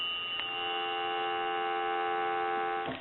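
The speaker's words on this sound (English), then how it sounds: "We'll give you some dial tone." A payphone dial tone on an AE 3 slot payphone, a steady, continuous electronic hum held for about three seconds, with faint clicks at the start and end.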